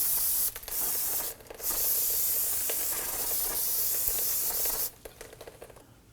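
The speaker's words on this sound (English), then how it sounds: "Go ahead and take some spray solvent to clean it up." Steady hissing bursts of an aerosol solvent cleaner sprayed close up on a car's front brake hub, broken by short pauses, the pressurized spray cutting off near the end.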